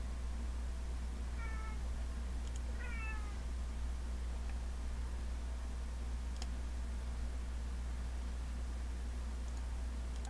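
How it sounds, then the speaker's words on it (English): A pet cat meows a few times near the microphone in a quiet indoor room, two short rising cries close together early on, over a steady low hum. "Yeah, that's my cat."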